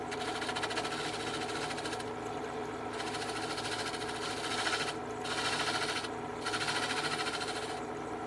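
A wood lathe spins a cylindrical wooden box while a skew chisel cuts along it, producing a steady, close whirring drone with a fine rapid chatter that briefly thins and returns in several spots.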